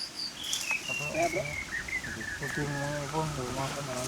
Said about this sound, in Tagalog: Guys, kinakantahan kami ng ibon, no? Pakinggan nyo.